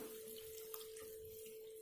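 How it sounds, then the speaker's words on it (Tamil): A continuous stream of water pours steadily into a drumstick masala curry, with a faint splashing texture and a steady tone throughout. "பச்சை வாசனை போயிடுச்சு இதில் இப்போ தண்ணி சேர்த்துக்கலாம்"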